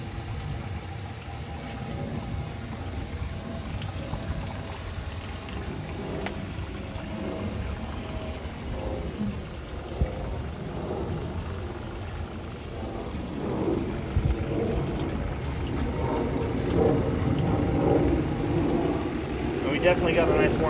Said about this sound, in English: Definitely got a nice warm shower going now.